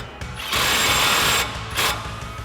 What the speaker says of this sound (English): Now we'll grab our 19 mil socket and tighten this down.